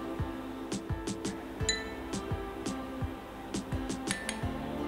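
A spoon stirs a cucumber and yogurt face pack in a bowl, giving light, close clinks and taps at an uneven pace over a soft, wet background.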